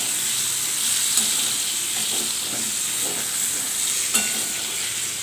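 Potatoes frying in a pan give a steady, fairly loud sizzling hiss with faint intermittent stirring clicks, up close and alone without talk.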